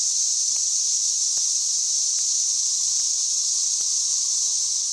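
Great southern brood of periodical cicadas making a loud, steady hiss-like drone that fills the five seconds without pause, with faint regular clicks recurring throughout.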